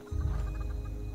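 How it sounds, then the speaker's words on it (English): A chicken clucks close by in the video game Fallout 76, a short burst of low clucking over a steady droning game background. "Oh, a chicken."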